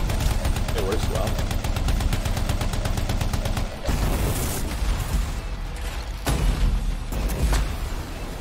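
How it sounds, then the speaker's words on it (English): Light machine gun firing in a video game, sustained rapid bursts running nearly continuously, loud and close, with short breaks between volleys and game effects layered in. "I like this light machine gun a lot."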